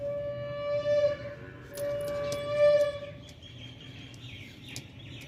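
Lambadi pigeons, a paired set in moult, give a few soft calls amid faint bird chirps and background hum, with tonal notes repeating a couple of times before fading into low ambient noise.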